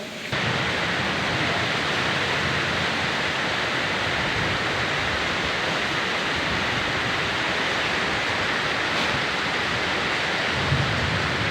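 Steady heavy rain pours down at night, a dense unbroken hiss with a faint low rumble of thunder near the end; no talking.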